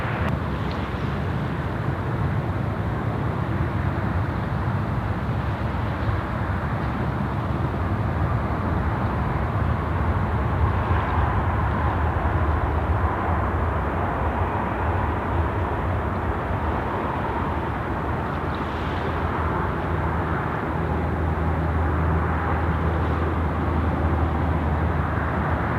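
Steady, broad engine roar of a jet airliner on the runway at Sydney Airport, lining up on runway 34 left for departure, continuous and fairly loud throughout with a low rumble and no voices.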